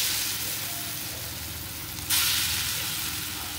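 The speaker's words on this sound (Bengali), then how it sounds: "এবার আরও কয়েকটা বড়া এইভাবে আমি ভেজে নেব।" Lentil fritters (matar dal bora) deep-frying in hot oil give a loud, steady sizzle with no talk. The sizzle jumps brighter and louder about two-thirds through, as if more fritters drop into the pan.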